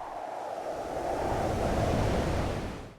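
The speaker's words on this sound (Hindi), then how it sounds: "हमें कुछ एक इंप्रेशन डालना है कि विंड बहुत तेज़ी से आई फिर विंड स्लो होगी" A strong wind sound effect in an FL Studio background score swells in as a broad rushing whoosh, holds loudly, then fades away near the end, alone with no voices.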